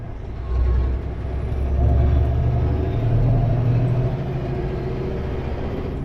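A heavy truck rumbles past on a highway through Manning Park, British Columbia, its deep engine roar swelling and fading, with a faint high whine of tires on pavement.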